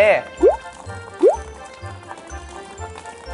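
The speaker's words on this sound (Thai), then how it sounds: "เทน้ำลงไปในถังแล้วเนี่ย" Water pours into a bucket with a couple of rising gurgling fill sounds, then settles into a low dripping trickle.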